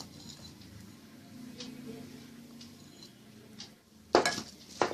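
Rice stuffing with salt and spices for stuffed pigeon is stirred in a pot, soft quiet scraping and shuffling followed by a louder clink of a utensil against the pot near the end.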